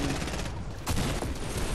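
Rapid gunfire in the video game Fortnite, a dense, continuous burst of overlapping shots at steady loudness with no pauses.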